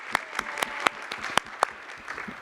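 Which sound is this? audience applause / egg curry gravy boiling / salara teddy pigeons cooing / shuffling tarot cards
audience applause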